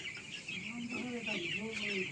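A crowd of young poultry chicks in their pen keeps up a dense, steady chorus of high peeps and soft clucks, close and continuous, with a faint low voice underneath.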